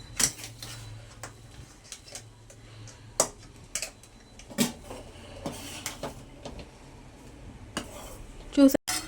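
Cooked rice being stirred into vangi bath in a pot, giving scattered scraping and clinking knocks of a spoon against metal at an irregular pace, fairly close, with a low steady hum underneath.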